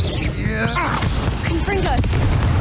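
Confringo fire spell blasts from the Hogwarts Legacy video game, a dense game mix of booming impacts and whooshing effects that stays loud and busy throughout, with a voice speaking briefly over it.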